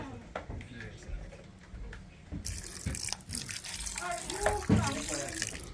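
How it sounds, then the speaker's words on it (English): A little water is poured into a cooking pot over a fire for curry, a short splashing trickle that swells midway, with people talking over the wet sound. "I throw a little water. In there. Little bit of water."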